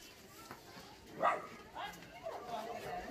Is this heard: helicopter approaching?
no